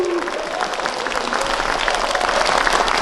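Audience applause at a public lecture for a district academy series, greeting a district mayor being introduced: a dense, steady wash of clapping from a sizeable crowd that holds evenly for about three seconds.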